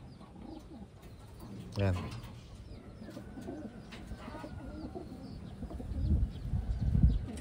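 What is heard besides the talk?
pigeons cooing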